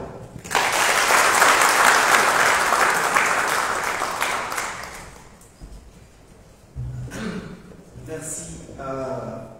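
Audience applause at an official evening event as a speaker is invited up, loud and dense for about five seconds, then thinning out, with voices and a few scattered sounds following.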